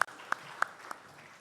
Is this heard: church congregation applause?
yes